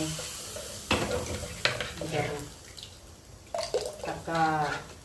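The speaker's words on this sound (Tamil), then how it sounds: "தாளிப்பு அப்படியே நல்லா சத்தம் வருதா" Hot oil crackles and sizzles in a few bursts as spices are tempered in a pan for a Tamil home dinner, with brief spoken sounds mixed in.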